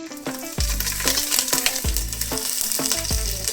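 Crushed ginger and garlic fry in a pan for a chicken curry, a loud continuous sizzle broken by repeated scraping stirs and clinks of a spoon against the pan, with no talking.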